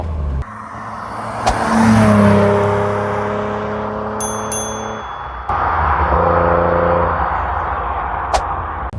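A 1988 Ford Granada 2.9i V6 with a manual gearbox, 500,000 km on the clock, accelerates hard with rising engine tone through a gear change, loud and close from inside the car, with a brief chime sounding partway.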